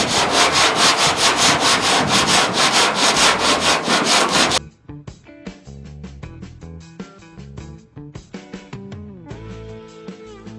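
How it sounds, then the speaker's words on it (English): Body filler on a 1970 Mustang Mach 1 quarter panel is sanded with 40-grit sandpaper in quick, rhythmic back-and-forth strokes for about four seconds. The sanding then stops and music plays. "I'm going to start with 40 grit just to shape the filler"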